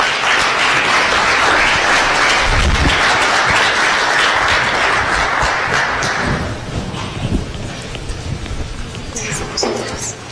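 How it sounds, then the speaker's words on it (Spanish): Audience applause welcoming panelists at a public forum on corruption, loud and steady for about six seconds before tapering into scattered claps and room noise. "recibimos a nuestros panelistas con un fuerte aplauso."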